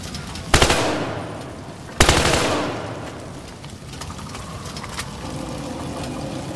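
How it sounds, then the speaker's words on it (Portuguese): Machine gun fire in the video game Battlefield Hardline, two sharp loud bursts followed by fainter scattered shots and rumbling engine-like background. "Temos alguém atirando!"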